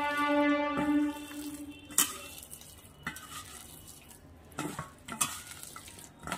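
Chopped green chillies are mixed with gram flour in a bowl, giving soft close stirring scrapes and a few sharp clinks of a utensil against the dish, with no talking.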